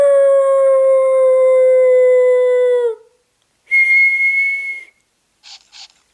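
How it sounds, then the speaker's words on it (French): Puppy in Nintendogs + Cats on Nintendo 3DS letting out a long, loud, steady wolf-like howl, followed by a shorter higher howl and two brief faint yips, with no talk. "à 3, on va hurler à la mort comme des loups"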